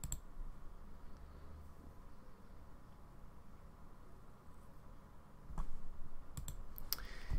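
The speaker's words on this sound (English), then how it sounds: "To do that, right click and then click extract all." Mouse clicks while extracting a zipped file on a computer: after a long stretch of steady low hiss, a few sharp, quiet clicks land near the end, close to the microphone.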